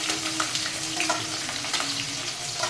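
Green chili, ginger and curry leaves sizzle and crackle in a hot pan for upma, giving a steady close frying hiss with small pops and no voices.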